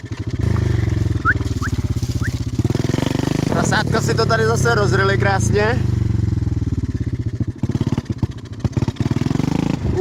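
A dirt bike engine runs steadily at idle and low revs on a rutted trail before winter, with a mechanical valve clatter in its tone; someone talks over it throughout.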